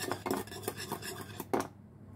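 A utensil scrapes and clinks against a pot while a milk mixture is stirred, in short repeated strokes up close, then stops abruptly.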